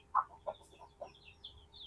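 A free-range village chicken suffering from a snoring respiratory disease makes a few short, clucking, raspy calls, close but faint, spaced irregularly with quiet gaps between them.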